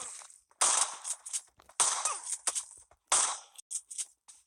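Pistol shots fired in the PUBG video game, three sharp, loud reports spaced about a second apart, each trailed by a short burst of clatter and echo.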